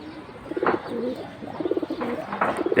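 Pigeons coo on a rooftop, with soft, low, throaty calls repeating in short bursts at moderate distance, plus faint background noise.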